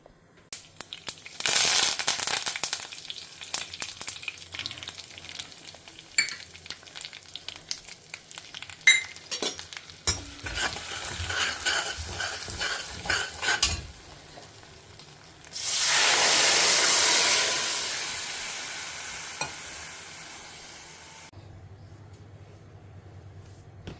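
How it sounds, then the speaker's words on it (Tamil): Mustard and fenugreek seeds crackling and sizzling in hot oil with some stirring clinks, followed by a louder, steady frying hiss that swells then fades. "நான் கடுகு, வெந்தயத்தை தாளிக்கிறதுக்கு போட்டுக்கிறேன்"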